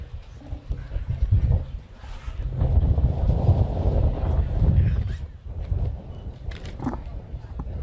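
Cold wind blowing at an outdoor St. Patrick's Day parade, heard as steady low rumbling buffeting against the microphone, swelling through the middle, with faint crowd sounds and a voice talking in places.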